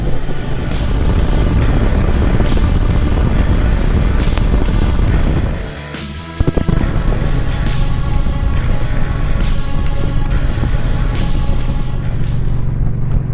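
A motorcycle with a fault ridden along an outback dirt road in central Australia, its engine droning loud and steady with wind rush, dipping briefly as it surges before picking back up to a constant roar.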